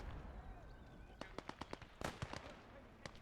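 Artillery fire is exchanged in the WWII game Gates of Hell, heard as a faint, distant scatter of sharp cracks and thumps that comes in quick irregular bursts over a quiet background.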